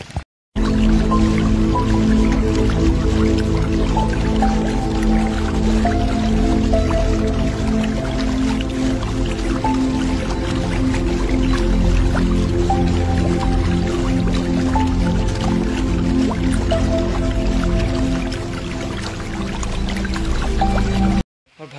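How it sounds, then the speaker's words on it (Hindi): Water splashes and rushes at Bruti waterfall, a loud, steady flow of splashing water that starts and stops abruptly. "पानी की छड़छड़ाती हुई आवाज़ें"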